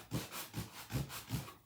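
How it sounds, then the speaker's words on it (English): A sanding sponge rubs back and forth over a chalk-painted wooden sign, four soft, rhythmic scrubbing strokes heard close up and faint. "I'm going to try and sand this a little bit with my sanding sponge"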